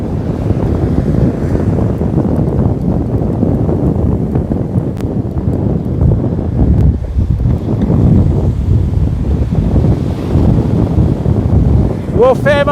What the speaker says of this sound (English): Well, Famo, the wind swung to easterly.